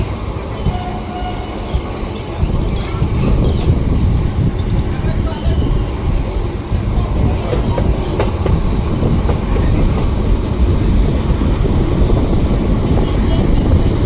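Train rolling over points while switching tracks on arrival at Jetalsar Junction, a steady loud rumble with scattered clanks and rattles, heard from onboard, with a voice talking faintly over it.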